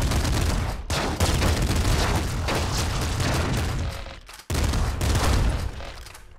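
Flak cannon fire in the roguelike shooter Nuclear Throne: a dense, continuous barrage of loud blasts and bursting fragments, briefly cut off twice by sharp gaps, up close with no speech.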